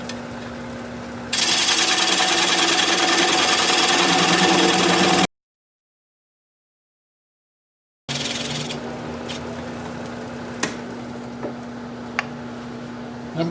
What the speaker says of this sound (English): we're going to turn here at about, let's say about 600 RPM. And I'm going to use a 1/2-inch standard grind bowl gouge to remove this tenon.